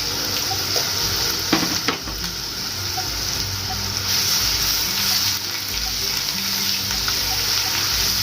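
Garlic paste frying in oil in a kadai makes a constant, fairly loud hiss and sizzle with a few brief clatters near the start, nearby and without talk.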